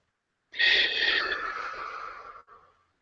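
One long, forceful exhale during a guided breathing exercise, starting abruptly from silence, rushing and breathy for about two seconds before tailing off with a brief final puff, close to the microphone.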